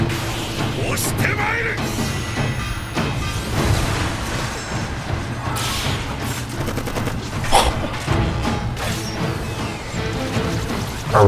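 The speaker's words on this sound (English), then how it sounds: "A rapid fire." Rapid gunfire from an anime action episode, a dense run of shots and crashes layered over a busy soundtrack and talking, with sharp bursts recurring throughout.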